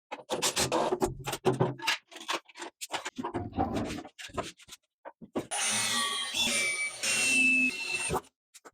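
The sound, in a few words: drilling holes in sheet metal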